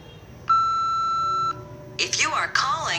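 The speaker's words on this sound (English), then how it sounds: "If you know the extension number you require, you can key it in after the tone." A business phone system plays a steady electronic tone lasting about a second, signalling when an extension number can be keyed in; a recorded voice follows afterward.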